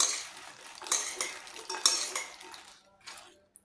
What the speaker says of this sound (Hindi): मिक्स करती हूँ अच्छी तरीके से।